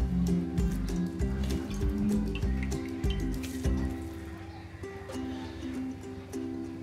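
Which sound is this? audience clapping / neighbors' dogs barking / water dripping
water dripping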